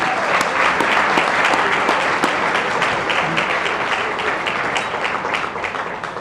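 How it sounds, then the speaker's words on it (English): A crowd at a Chamber of Commerce annual meeting claps loudly and steadily, a thick sustained round of applause that tapers slightly toward the end. "If I could have a round of applause for their work, please."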